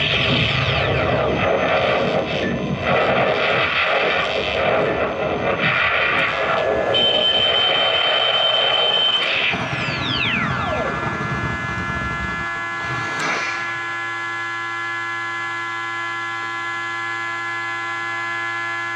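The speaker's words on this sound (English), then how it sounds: "run the overheat sequence by overheating the wand" An Epic Props Proton Pack with GP-Star wand upgrades runs its overheat sequence: dense electronic whines and sweeping tones, then a falling siren-like swoop, a sharp burst, and a steady humming drone that carries on to the end.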